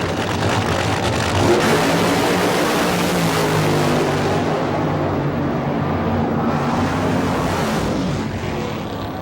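A 1987 Bakersfield fuel-and-gas meet funny car, John Brute Force's, roars down the drag strip on a full pass, a loud sustained engine blast that holds steady and then fades slightly as it pulls away.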